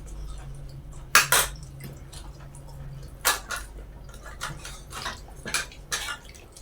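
Vegetable soup is stirred in a pot, giving sparse wet drips, splashes and clinks of utensil against the pot in irregular bursts over a low background hum; no talking.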